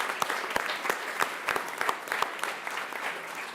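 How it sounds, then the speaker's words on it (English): Applause from attendees at a school board of education meeting for students and staff, a modest group clapping with distinct individual claps audible in an uneven, moderately loud patter. "Let's give them another round of applause."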